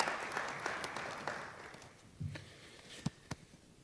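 An audience at a Kentucky education announcement for Jefferson County graduates applauds, faint and distant, clapping fading toward the end with a few louder isolated claps and knocks near the microphone.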